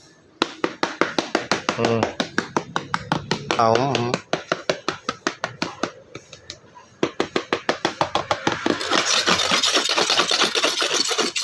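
A cleaver chops through the crispy skin of a whole roast pig lechon in rapid, loud, crackling strokes that come in bursts, with a motor running underneath and a short pause partway through.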